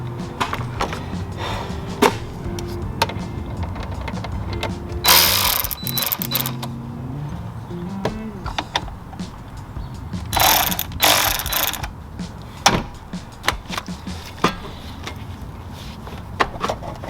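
A ratchet with an 8mm socket clicks repeatedly during a water pump job on a Ford F150 5.0, with steady close-up pawl clicking and a few louder bursts of ratcheting in between.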